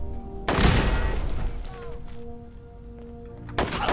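Automated turret in Fallout 4 opens up with a sudden loud burst of gunfire, then tails off, with another burst starting near the end.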